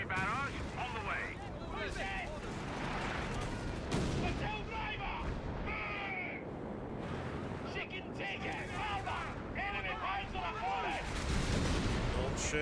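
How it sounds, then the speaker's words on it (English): An artillery barrage in Company of Heroes 3 brings dense, continuous rumbling blasts and crackling gunfire, with in-game voices calling out over the battle noise. "Artillery barrage on the way."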